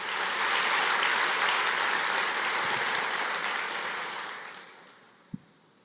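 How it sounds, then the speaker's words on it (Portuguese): A church congregation applauds together, a dense, steady wash of clapping that holds for several seconds and then fades out, ending with a single louder thump. "aplauda ao Senhor"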